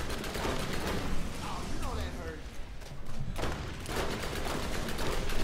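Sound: gunfire in the video game Borderlands

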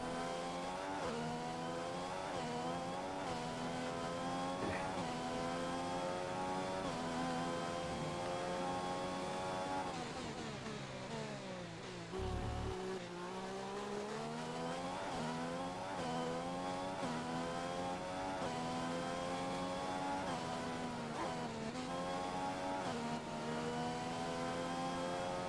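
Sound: Formula 1 race car driving in the video game F1 2015

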